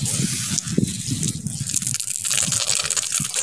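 Water splashes and gushes in short, uneven bursts close by as a coleus plant is watered, poured onto soil and leaves.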